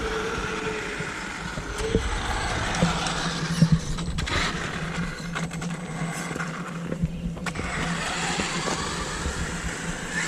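A Traxxas Stampede 4x4 RC car drives around with a continuous buzzing motor whine that rises and falls. Sharp clicks and bumps from its wheels break through the whine, and no one speaks.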